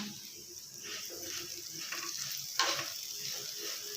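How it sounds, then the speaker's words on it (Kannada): Vermicelli roasts in ghee in a pan, giving a soft, close sizzle with repeated scraping and stirring strokes and one louder clatter partway through. "ಚೆನ್ನಾಗಿ ಶಾವಿಗೆ ತುಪ್ಪದಲ್ಲಿ ಹುರ್ಕೊಳ್ಳೋಣ"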